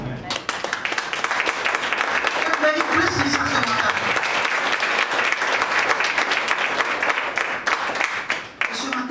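A church congregation applauds the worship team during a morning service: dense, sustained clapping fills the room, and a voice speaks over it before the applause starts to thin near the end.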